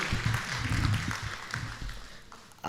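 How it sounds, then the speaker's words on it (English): Audience at a law practice business conference clapping for a speaker, a short burst of applause that fades out, with faint voices underneath. "A round of applause for Mr. Aye."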